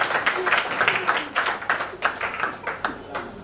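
Rhythmic group clapping from a congregation at a church gathering in Guntur, steady beats repeating under a lively, reverberant room tone.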